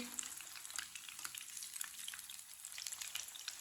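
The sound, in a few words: potato pakoras frying in oil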